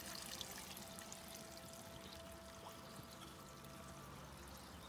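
Calcium carbonate poured by the scoopful into a koi pond biofilter filled with about 250 litres of Helix media, giving a steady, even pouring hiss with a faint trickle of water throughout, no voices.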